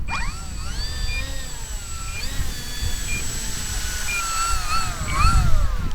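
Durafly Auto-G2 V2 RC gyrocopter taxiing on the ground, its small electric motor whining at a fairly steady pitch with rising and falling swells, close by and unaccompanied by talk.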